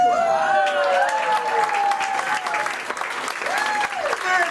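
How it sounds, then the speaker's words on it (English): An audience bursts into applause for game players, a steady wash of clapping that holds strong throughout, with a voice talking over it at a comedy show. "Give a nice round of applause for playing."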